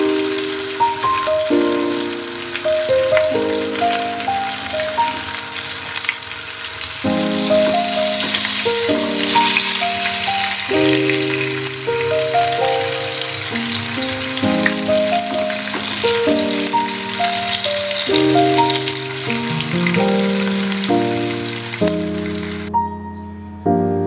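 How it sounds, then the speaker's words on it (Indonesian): Chicken intestines coated in wheat flour fry in hot oil with a continuous crackling sizzle, heard under steady background music. "Dan lanjut untuk menggoreng usus yang tadi ya Bunda, yang sudah diberi tepung terigu"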